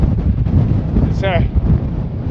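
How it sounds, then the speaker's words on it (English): Wind buffets the microphone on an exposed Scottish mountain summit by a cairn, a loud low rumbling roar throughout, with a brief whistling tone near the middle. "there's not much shelter from the wind here"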